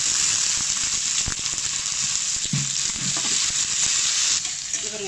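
Chopped onion sautéing in oil, a steady close sizzle with occasional stirring scrapes and clinks of a utensil against the pan.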